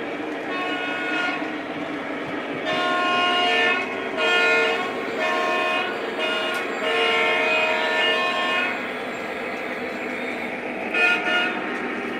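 Lionel model trains run on a layout track, giving a steady rolling hum with repeated horn-like toots that come and go over about twelve seconds, fairly loud and close.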